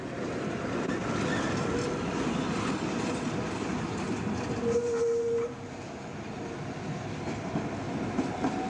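A Moscow tram departing in 1992: a rolling rumble of wheels on track with rattling clatter, a brief tonal whistle or horn partway through, then the sound eases slightly as the tram moves off.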